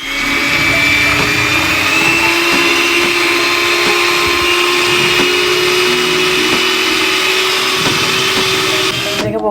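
An electric hand mixer whirs loudly and steadily while beating cream for tiramisu, a continuous close motor drone with a constant pitch that runs unbroken from start to finish.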